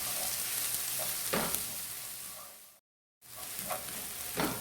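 Pounded ginger, garlic and chili paste sizzles as it fries with onions and gets stirred, a close, steady crackling hiss with periodic scraping stirs and one brief cut to silence midway.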